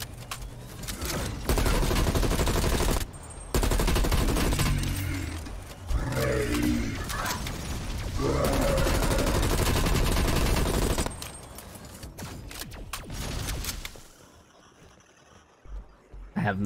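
Heavy gunfire in the Call of Duty Black Ops zombies mode, dense sustained bursts of automatic fire that drop out briefly and resume, loud and close, fading to quieter shots at the end, with some voice underneath.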